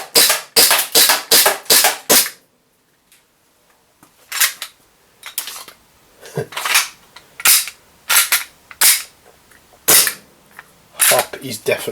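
WE DP17 airsoft pistol firing at a target: a fast string of five sharp pops, a short pause, then about a dozen more crisp, loud shots in uneven bursts, close to the listener.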